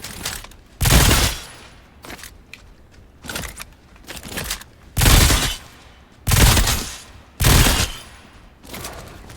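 Bursts of gunfire in an Xbox video game, about seven loud rapid-fire volleys separated by short gaps of quieter game sound, with no one talking over them.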